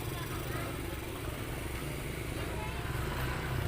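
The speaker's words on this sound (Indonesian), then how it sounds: "Begitu ramai dengan para bentor atau becak motor serta pedagang kaki" Engines of motorized pedicabs hum and putter along a busy street outside the Sunan Ampel tomb in Surabaya, a steady traffic rumble that sits beneath a voice speaking over it.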